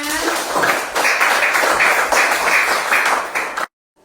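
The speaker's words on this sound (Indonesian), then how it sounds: "Tepuk tangan buat kita semuanya" Classroom of children clapping together for a few seconds in a steady burst, fairly loud and close, then stopping abruptly into silence.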